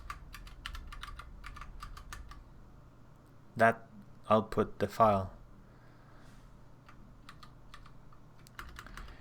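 Computer keyboard typing clicks in quick, light bursts throughout, close and fairly quiet, with someone speaking briefly in the middle.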